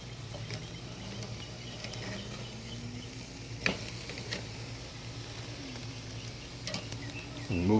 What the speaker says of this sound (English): I'm gonna go ahead and sear these steaks now.